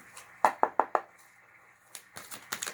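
Tarot card deck being shuffled: a quick run of four sharp, evenly spaced snaps, a brief lull, then a looser flurry of softer riffling taps, close and fairly quiet.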